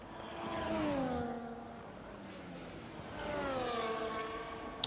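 A Red Bull Formula 1 car in the F1 24 racing game heads out on a flying lap, its engine whining and rising in pitch through two surges, fairly loud and continuous with no voices.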